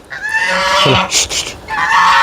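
Pet ducks kept at an old rural farmhouse estate give loud, nearby honking quacks in a few drawn-out calls with brief gaps, and a cluster of harsher squawks in the middle.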